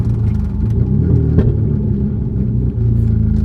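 Close, loud low rumble of a BMW E36 with a swapped engine, the note rising and settling as it revs, with a brief dip near the end; no clear pops stand out.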